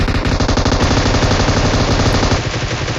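Automatic gunfire from an M249 in the battle royale game PUBG rattles in loud, rapid continuous bursts, filling the whole stretch without pause.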